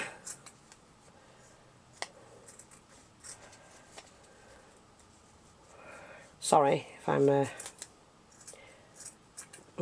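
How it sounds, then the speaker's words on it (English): Scissors snipping through fabric in a few sharp, close cuts, with quiet handling noise before and a short bit of speech in the middle. "I do need some sharp scissors, or sharper the scissors I've got would do."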